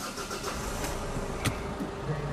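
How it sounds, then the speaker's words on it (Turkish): A Ford Ranger engine runs close by with a steady mid-range rumble and a brief surge in the middle, with no voices. "Aracı bir çalıştırayım."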